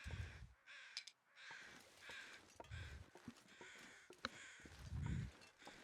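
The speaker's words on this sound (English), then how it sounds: "Keep hearing crows" Several crows caw repeatedly in a snowy survival game wilderness, harsh calls spaced irregularly over faint wind and occasional footsteps, moderately near.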